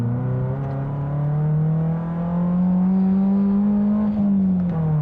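A 1998 BMW Z3 engine revs up toward 6,500 RPM, a smooth, steady rising drone heard from inside the car, climbing gradually then easing back slightly near the end.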